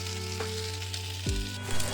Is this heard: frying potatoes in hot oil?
yes